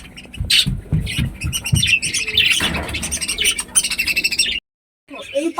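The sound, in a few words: budgerigars squawking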